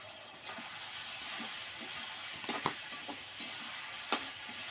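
Curry being sautéed in a pan, a steady low sizzle with occasional scraping stirs and sharp clinks of a spoon against the pan.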